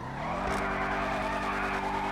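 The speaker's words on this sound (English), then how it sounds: "We need to go somewhere and actually do some burnouts in this." Muscle car doing a burnout in a car park in GTA 5, with a loud, steady engine roar and continuous tire squeal that hold without a break, close and alone with no talking.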